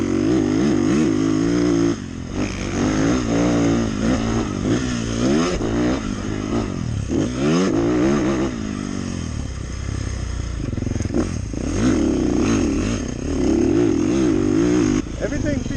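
A 2024 Beta 450RX dirt bike engine revs repeatedly up and down from a high idle, loud and close, with a rough mechanical clatter and someone talking over it.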